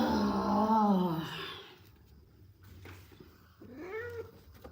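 A cat gives a long, drawn-out meow, pauses, and then lets out a second, shorter meow, both fairly close and clear against a quiet background.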